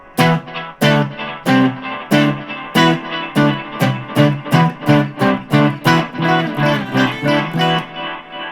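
Distorted electric guitar chords through a Blackstar ID Core V3 10W amplifier, strummed in a steady repeating rhythm, each hit trailed by echoing delay repeats, loud and up close.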